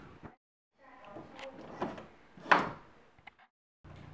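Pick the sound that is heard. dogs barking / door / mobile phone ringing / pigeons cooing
door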